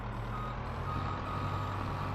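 A logging truck in Farming Simulator 22 sounds repeated reversing beeps over a constant low engine drone, the tones pulsing evenly at moderate loudness with no voices.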